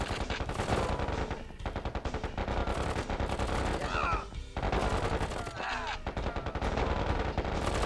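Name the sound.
gunfire from units in the video game KKND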